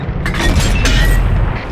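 A single heavy boom with a shattering crack from an FV4004 Conway tank cannon shot striking its target in World of Tanks, loud and close, ringing out briefly.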